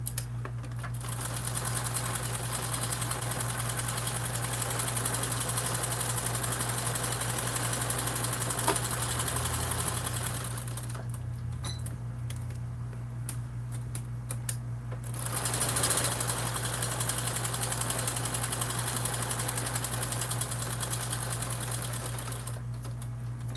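A sewing machine sews a long basting stitch in a steady, droning hum, with a couple of short pauses along the way and no talking.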